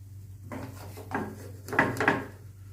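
Chicken pulao rice scooped out of a cooking pot, a series of soft scraping and clinking spoon-on-metal strokes in a quiet kitchen with a low steady hum underneath.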